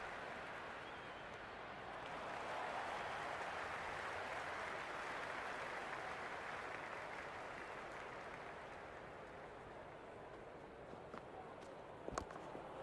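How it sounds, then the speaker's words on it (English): Stadium crowd noise from the cricket video game Cricket 2026, a broad steady roar of cheering and applause that swells after the first couple of seconds and holds loud throughout, with a few sharp claps near the end. "The crowd is electric right now."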